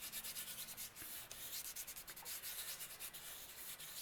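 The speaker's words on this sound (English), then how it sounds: "I'm just gonna gently rub it." Soft, steady rubbing of an image transfer being gently pressed onto a surface, a faint papery swish repeating in short strokes throughout, close and quiet with no voices.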